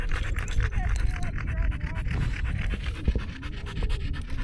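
Dogs pant hard and fast on a steep mountain hike up a rugged peak in the Tushar Mountains, close breathy rhythmic puffs over outdoor rustle and footsteps, with a faint voice murmuring in the background.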